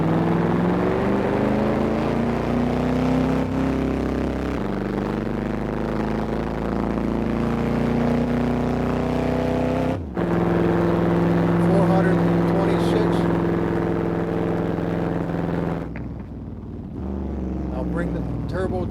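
A Baldwin Motion Super Vega engine revs hard and loud, climbing through the gears with a brief dip at each shift. Someone talks over the steady engine roar.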